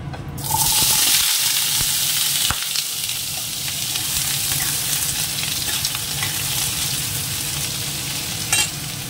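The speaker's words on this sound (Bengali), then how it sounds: "আলুটা আগে একটু লাল করে ভেজে নেবো" Diced potatoes frying in mustard oil, a loud, steady close sizzle with occasional stirring scrapes and a sharp knock near the start.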